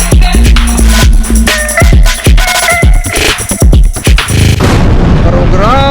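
A bicycle inner tube bursts with a sharp, loud bang, followed by a rapid flurry of popping and clattering. Excited voices sound out around it.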